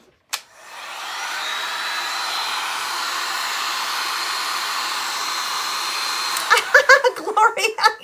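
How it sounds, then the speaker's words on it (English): A small handheld dryer blasts a steady, even whir for about six seconds while drying wet gesso for a mixed-media craft project, then cuts off and a few light clattering knocks follow. "let me get my little dryer out because this gesso is still a little bit wet"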